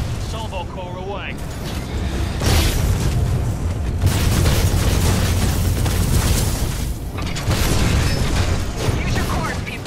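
Salvo Core missile barrage from the video game Titanfall 2, a loud volley of booming explosions that rolls on in overlapping bursts for several seconds, with a brief electronic tone at the start and game dialogue mixed in.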